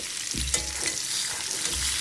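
Potatoes and spices for chicken dum biryani fry over a high flame, a loud close sizzle with a couple of scraping stirs against the pan.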